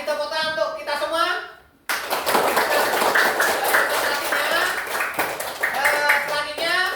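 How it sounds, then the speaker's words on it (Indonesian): Classroom applause follows a teacher's call, a dense, sustained patter of many hands clapping after a brief pause, with a voice talking over the start and end. "Kasih tepuk tangan untuk kita semua."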